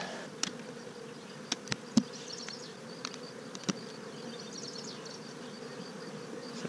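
Steady buzzing of many honeybees close by at a hive, a constant drone with scattered clicks and taps, no voices.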